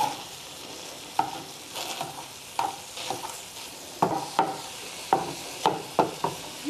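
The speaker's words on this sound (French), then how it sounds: "quand l'eau bout au fond de la poêle, et qu'on a mélangé un petit peu" Tofu pieces cooking in a pan with water boiling at the bottom, a soft steady bubbling sizzle broken by repeated clacks of a utensil stirring against the pan, no talking.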